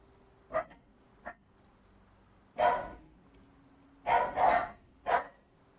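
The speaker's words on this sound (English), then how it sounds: "Excuse the dogs barking, going mad." Several dogs bark indoors in short, scattered bursts, a couple of single yaps, then a cluster of louder barks, heard at moderate distance over a low steady hum.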